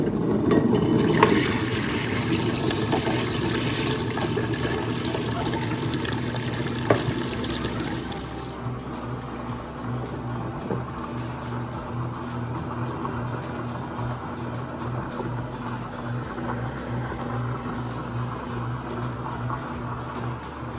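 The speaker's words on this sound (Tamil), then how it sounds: "இப்போ நம்ம கிரைண்டரில் அரைச்சி எடுத்துக்கலாம்." Wet grinder churning soaked urad dal and rice for jangri batter, a steady whirring rumble with a constant motor hum; the sound grows lower and more rhythmic partway through as the load settles, running alone without talk.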